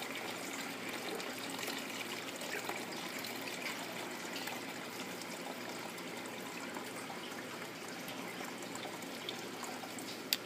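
Green phytoplankton culture is poured into a bottle, a faint continuous trickle of liquid running for several seconds at low level.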